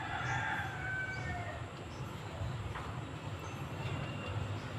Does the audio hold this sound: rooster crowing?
yes